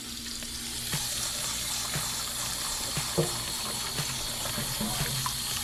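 Potatoes are rinsed under cold running tap water in a kitchen sink: a steady close splashing wash with scattered light knocks and clicks as the potatoes are handled.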